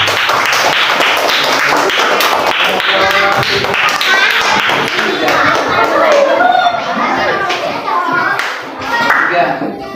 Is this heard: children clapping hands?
yes